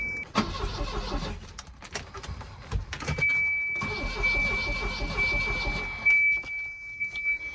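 An abandoned Volvo 240's engine cranks in short bursts, with a pause between tries, then turns over for several seconds, close and fairly loud, with a faint electrical whine.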